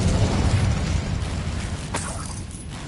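The Incendio fire spell bursts in Hogwarts Legacy with a loud whooshing, crackling roar that fades gradually, with a brief sharp crackle near the end; no voices.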